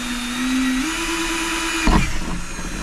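A power drill bores up through an RV roof from inside during installation of an OutEquip Pro 12V air conditioner. It gives a steady, loud, close whine that climbs slightly in pitch, then a brief rough crunch near the end.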